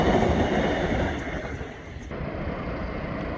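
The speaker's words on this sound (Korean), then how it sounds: "이번엔 컨테이너가 빠져있는 화물열차가 지나가는군요." A broad, steady rumble and clatter of a freight train with empty container cars rolling past nearby, loud at first and easing slightly, beside a plum blossom grove in spring.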